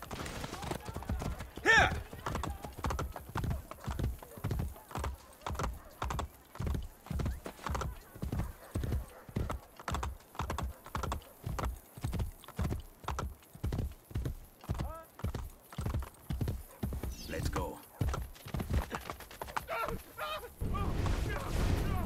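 Horse hooves clip-clop at a steady gallop through a battle in Assassin's Creed Brotherhood, with a whinny near the start and the hoofbeats holding a loud, even rhythm throughout.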